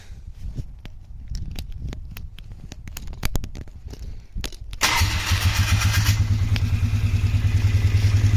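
A Polaris Trailblazer ATV that had not been running clatters through several sputtering cranks, then catches and settles into a loud, steady idle close by, with no voices.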